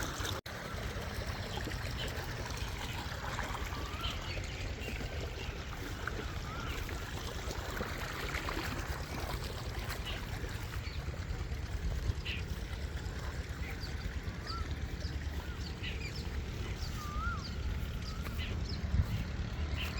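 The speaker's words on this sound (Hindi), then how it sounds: "हमारी ज्वार की घास में ट्यूबवेल का साफ़ शफ़ाफ़ और सुथरा पानी जा रहा है" Clear tubewell water gushes steadily into a sorghum fodder field, a constant broadband rushing flow with no breaks, moderately loud and close throughout.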